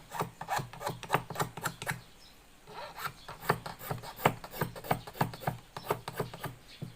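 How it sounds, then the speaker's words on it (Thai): Hand file rasping rhythmically against a lotus-bud hoop earring being shaped, close and quiet, a steady series of short scraping strokes with a brief pause partway through. "อันนี้มันหนานะครับ เราก็ต้องค่อย ๆ แทงตะไบกินเข้าไปนะครับ"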